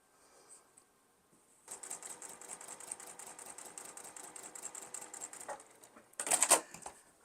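Sewing machine stitching a quilt cornerstone onto sashing, a steady rapid mechanical whirr running about four seconds, then a brief louder burst near the end, with no talk.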